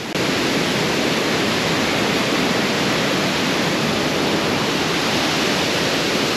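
Waterfall at Janjske otoke in Šipovo, a loud, close and unbroken roar of rushing, crashing water that stays constant throughout with no voices.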